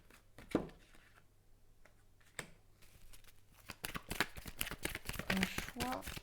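Cartomancy cards being handled and smoothed on a table: soft papery slides and crisp snapping flicks, sparse at first and then rapid and clustered.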